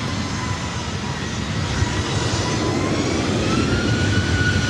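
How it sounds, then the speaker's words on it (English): Delta flight 1603 departs LAX, its jet engines producing a loud, broad roar that builds steadily as the aircraft passes at fairly close range. "Delta 1603 departure."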